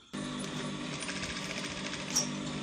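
Steady mechanical whirr of a sewing machine stitching Agbada fabric, running continuously and fairly close with a slight clink near the end.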